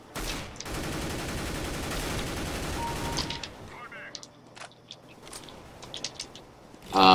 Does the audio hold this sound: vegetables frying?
no